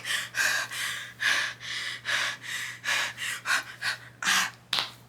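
A person imitates panicked hyperventilating, a series of quick, loud, gasping breaths in an uneven rhythm, close to the listener and without speech.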